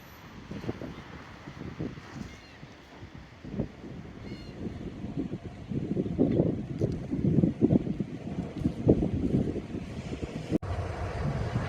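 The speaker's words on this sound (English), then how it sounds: "Hopefully my audio is coming through over the wind." Strong coastal wind buffeting an outdoor microphone at Seaside, California, a continuous low rumbling roar with gusty swells that build louder toward the end, alone without voices.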